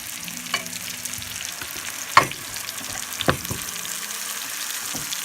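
Vegan butter sizzling and melting in a hot pan, a steady broad hiss with a few sharp pops and a clatter or two from stirring, fairly close and with no talking.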